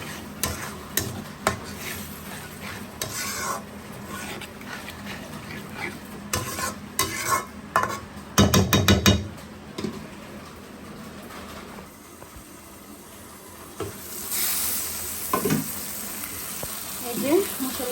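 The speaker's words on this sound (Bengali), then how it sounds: "এই যে মশলাগুলো আমি কষাইতেছি।" Ground spice paste with salt and water is stirred and fried in a pan for khichuri, a close, soft sizzle under repeated scraping and clinking of a spoon against the pot.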